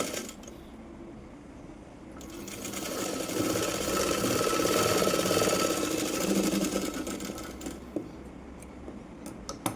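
A sewing machine stitches the end of a blouse hook belt, its rapid mechanical whirring swelling louder through the middle and easing off again, alone with no talk.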